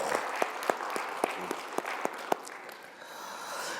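A congregation at a year-end Sunday worship service in a Korean church in Winnipeg claps in praise. Sharp, evenly spaced handclaps ring out close and distinct, then fade into a softer, scattered patter toward the end.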